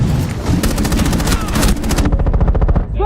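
Cluster charge detonating in Rainbow Six Siege, a loud rapid chain of crackling blasts over sustained gunfire that thins toward the end, close and dense throughout.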